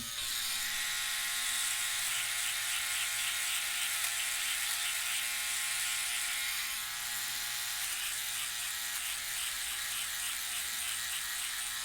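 A Philips Norelco OneBlade trimmer edges sideburns with its bare blade, a steady close buzzing whir with a faint rattling texture that runs unbroken the whole time.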